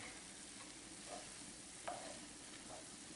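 Corn frying in a pan with margarine while being stirred, a faint steady sizzle with a few soft scraping stirs, the clearest near the middle.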